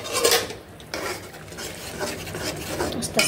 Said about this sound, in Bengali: তো এখানে যে মশলাটা কষাচ্ছি